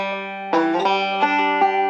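Banjo playing a measure of Roll In My Sweet Baby's Arms, thumb on the open fifth string and index on the second string: a held ringing tone, then a quick series of bright plucks in steady rolling rhythm, close-miked and solo.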